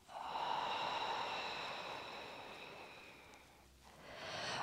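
A long audible exhale during a lateral thoracic breathing exercise, a soft breathy rush close to the microphone that fades out, then a new breath begins at the end.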